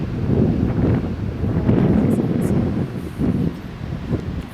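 Cold wind blows off a glacier in an Alaskan valley near Valdez, a steady low roar buffeting the microphone for the whole stretch, with gusts swelling and easing and no voices.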